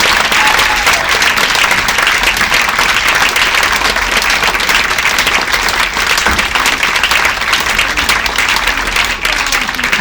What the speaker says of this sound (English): Would you please all join in giving a round of applause